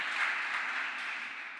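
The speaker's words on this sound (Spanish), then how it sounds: "Damos un aplauso a nuestro Señor Jesucristo" Church congregation applauding Jesus Christ during a Spanish-language sermon, a steady wash of clapping that holds evenly for its whole short length with no voices above it.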